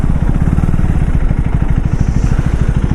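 A KTM Duke 390 motorcycle with a clutch fault runs loud and close, its single-cylinder engine throbbing in a fast, rough, steady pulse with a clattery edge and no talking.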